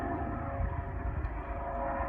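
A Coast Guard helicopter passes high over a mountain pass in Olympic National Forest, making a steady, distant engine drone and rotor rumble that stays even throughout without talk.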